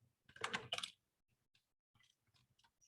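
Quick bursts of keystrokes on a computer keyboard, a cluster of close clicks followed by a few sparse taps, quiet and alone.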